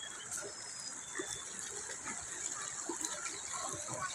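Floodwater rushes in a steady, broad hiss that runs without a break from start to finish, with faint splashes and gurgles underneath and no one talking.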